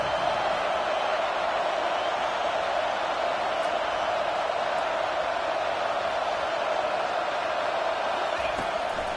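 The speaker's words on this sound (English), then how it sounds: "3rd down and the crowd really getting into it." A football stadium crowd roars steadily on third down at a college game between Texas State and USC, a broad, continuous wash of cheering and noise that holds level throughout without letup.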